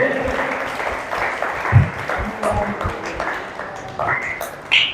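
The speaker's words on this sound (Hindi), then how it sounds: "जोर से प्रभु को ताली बजा के धन्यवाद दे देंगे" A church congregation claps loudly together in thanks to the Lord, a dense, sustained patter of many hands mixed with voices and shouts throughout.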